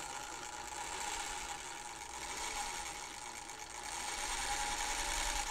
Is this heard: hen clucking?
no